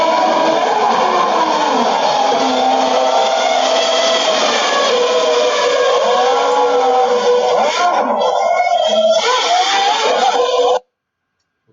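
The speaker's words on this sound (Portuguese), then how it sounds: "O Kimi arranca com a mangueira também." A 2008 Ferrari Formula 1 car pulls away from a pit stop, with the engine note rising and wavering in sweeping revs through a dense, steady background roar before the sound cuts off abruptly.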